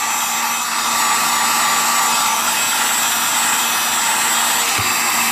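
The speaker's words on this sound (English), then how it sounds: "Got a heat gun. I'm just going to heat the back." Heat gun blowing hot air at the back of a Kydex knife sheath from about 3 inches away, a steady loud whooshing roar that runs unbroken throughout.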